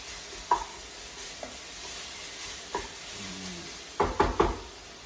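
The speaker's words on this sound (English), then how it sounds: "I'm just sort of kind of really just sauteing them up" Vegetables sauteing in olive oil in a pan for a grilled chicken fajita bowl give a low, steady sizzle, broken by a few sharp knocks and stirring clatters of a utensil against the pan, loudest near the end.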